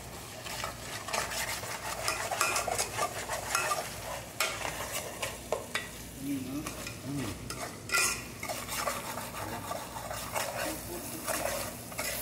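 Ginger frying in a pan for chicken masala, sizzling steadily while a utensil stirs and scrapes it in repeated strokes, close and moderately loud with occasional clinks of metal against the pan.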